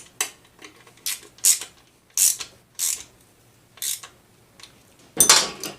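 A ratchet wrench turns a 12mm bolt on the rear brake of a Honda CX500 motorcycle, producing short bursts of rapid clicking separated by pauses, close and crisp, with no speech.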